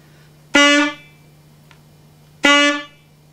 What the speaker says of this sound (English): I don't want your tongue to hit it and then come back and cut off the sound